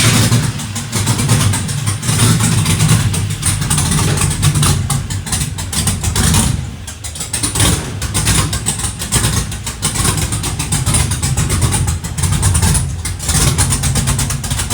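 LS-swapped 1972 Chevrolet Nova with a 5.3 V8 and BTR cam running steadily at idle, a loud, close, continuous engine rumble with slight fluctuations in pitch.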